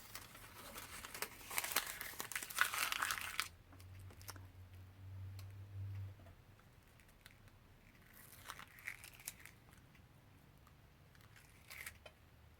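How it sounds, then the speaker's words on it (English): Freezer paper peeled off cooled, glued fabric applique pieces for a pumpkin design, giving a burst of close crinkling and tearing rustle at the start, then scattered faint crackles and taps in a quiet room. "But you'll see the freezer paper comes off pretty easily."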